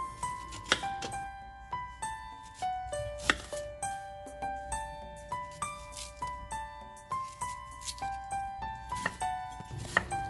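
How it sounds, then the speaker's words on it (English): A steady series of knife cuts through an Asian pear knocks against a cutting board in a regular rhythm, close and crisp, with no voices. "Peel and cut half an Asian pear."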